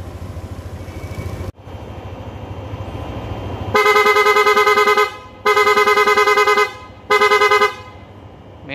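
A PIAA aftermarket horn fitted to a 2021 Yamaha NMAX V2 scooter blares loud and close in three sustained blasts of about a second each, following a steady idling hum.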